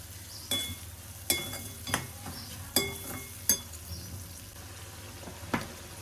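Onions and chopped tomatoes sauté in a pan for dum aloo, with a soft, steady sizzle underneath. A spoon gives sharp metallic clinks and scrapes against the pan at irregular intervals, close and clear.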